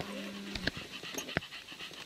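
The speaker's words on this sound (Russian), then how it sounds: "Держите собаку." A hunting dog pants rapidly and close during a photo hunt for moose and roe deer, with quick breathy bursts and a couple of sharper sniffs over faint background noise.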